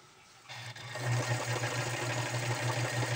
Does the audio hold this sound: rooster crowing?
no